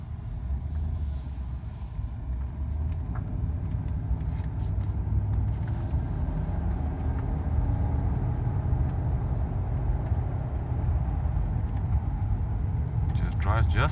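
A Mercedes SL500 with a repaired electronic throttle drives along, giving a steady, loud engine and road rumble that holds through the whole stretch with no clear breaks, ending in a brief higher whoosh.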